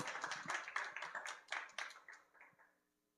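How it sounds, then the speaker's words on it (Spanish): A church congregation at an Old Testament class applauds: a burst of many hands clapping that thins out and fades to quiet after about two and a half seconds. "Démosle un fuerte aplauso al Señor"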